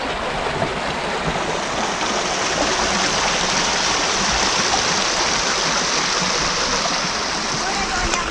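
A shallow stream rushes steadily over its bed near a riverside crossing spot, a close, continuous wash of water that stays even from start to finish with no pauses.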